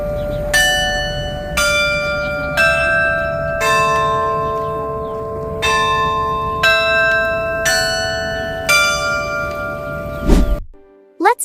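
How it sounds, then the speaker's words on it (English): Carillon of 35 bells in the Bavarian Inn bell tower at Frankenmuth ringing a slow melody, about eight clear struck notes spaced at steady intervals with long ringing decays, loud and alone before a brief clatter at the end. "Those 35 bells can play over 300 different songs."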